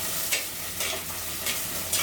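Finely chopped shallots frying in oil in a pan for chicken gravy, a continuous close sizzle broken by a few scraping stirs of a spoon at regular intervals, with no voices.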